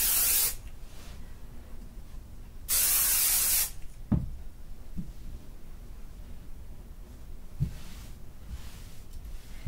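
Aerosol spray hisses onto a quilt's fabric layers in two bursts, a longer near blast followed after a pause by a shorter, louder one, with light handling knocks in between.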